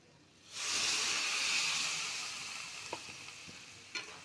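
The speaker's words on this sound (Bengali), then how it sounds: "এখন জল দিয়ে দেব।" Water hits a hot pan of frying soybean and potato curry, setting off a sudden loud hissing burst of steam that slowly fades into softer sizzling, with a couple of light utensil taps and no talking.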